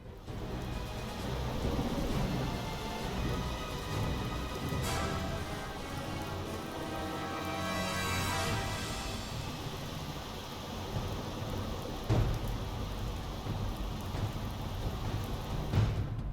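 Steady, heavy rain hisses continuously in the naval submarine game UBOAT, with low thunder rumbling under the downpour and a few louder cracks near the middle and end, all at a moderate level with no voices.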